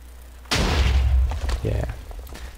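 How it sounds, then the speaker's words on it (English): Magma staff explosion in the Minecraft WizardCraft mod, a sudden loud booming blast followed by a rumbling decay and a second smaller burst, close and heavy. "wherever it hits it makes an explosion"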